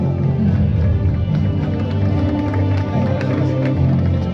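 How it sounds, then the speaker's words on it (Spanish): Crowd applause and cheering for the Masters 60 podium at a mountain bike marathon race, steady clapping at close range over a busy, noisy outdoor background, with voices mixed in. "por favor, un fuerte aplauso para estos Masters 60"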